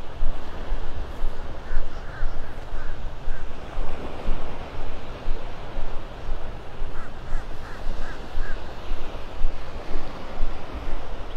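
Ocean surf rolls in on the incoming tide at Vanderbilt Beach in North Naples, with waves washing ashore in a steady surging rhythm, wind noise, and faint bird calls in the distance.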